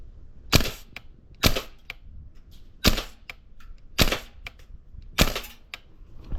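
VFC MK18 V3 airsoft gas blowback rifle fires five sharp, crisp single shots at roughly one-second intervals, each a loud snapping crack with a short mechanical clack, in a quiet indoor space.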